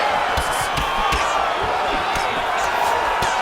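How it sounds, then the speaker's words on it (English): Video game arena crowd at a UFC fight cheering loudly and continuously, a dense roar of voices with scattered thuds and shouts mixed in. "an appreciative crowd responding in kind"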